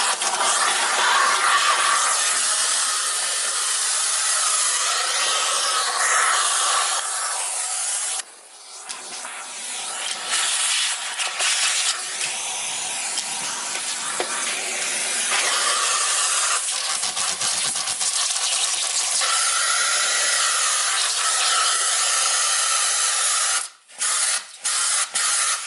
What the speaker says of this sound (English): I'm going to go ahead and use my central vacuum.